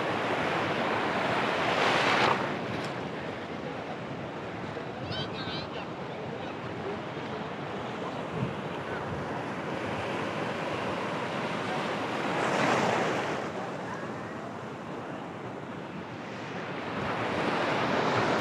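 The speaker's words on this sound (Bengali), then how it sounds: "দেখতে পাচ্ছ সমুদ্রের ঢেউ কিন্তু দেখো কত বড় বড় ঢেউ আসছে" Big ocean waves break on the beach at Tajpur in a continuous roar of surf, with louder swells cresting near the start, middle and end, and wind buffeting the microphone.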